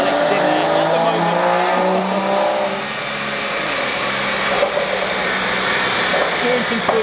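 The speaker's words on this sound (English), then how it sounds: "In there is my car, as you can hear." A BMW M140i engine roars steadily at high revs on a dyno throughout, loud and close, with the pitch rising and falling slightly; voices may be faintly mixed in.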